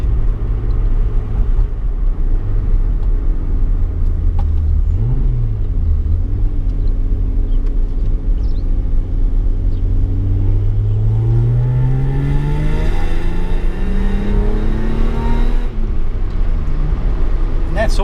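A big-block V8 swapped into a Mazda MX3 holds a loud, steady high idle throughout, with a deep rumbling drone whose pitch rises and sways toward the end. The car is at a racetrack, and there is background chatter.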